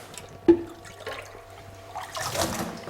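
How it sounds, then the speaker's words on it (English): Water pours and trickles into a car radiator hose during a leak test, soft and close, building to a fuller gurgling flow toward the end after a brief knock. "I will add now more water"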